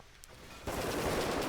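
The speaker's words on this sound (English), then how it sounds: "I can hear gunshots." Rapid bursts of gunfire and machine gun fire from fighting in the prison-management game Prison Architect begin abruptly after a brief quiet moment, dense and continuous.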